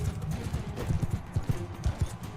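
Horse galloping in the medieval combat game Mount & Blade II: Bannerlord, a steady run of heavy, close hoofbeats thudding over a muddy bed of battle noise.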